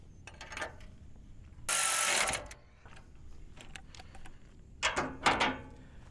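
Power tool zipping bolts off a truck bracket: a loud whirring burst near the middle, with ratcheting clicks and clanks before and a few more sharp bursts near the end.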